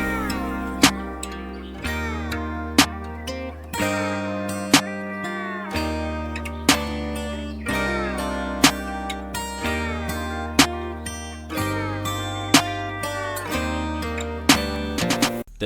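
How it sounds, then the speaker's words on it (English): A snare sample from the Paradiso drum kit hits sharply in a regular pattern over a country rap beat with sustained bass and melodic layers, the crisp snaps cutting through at even intervals. "Got this snare out of the Paradiso drum kit"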